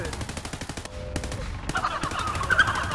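Rapid bursts of gunfire in a VRChat horror game, quick repeated shots in clusters over a few seconds, mixed with excited voices and game noise.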